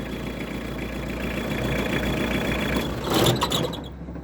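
A four-cylinder Kubota GT3 tractor engine idles with a steady low rumble, then revs briefly with a louder burst near the end before dropping away.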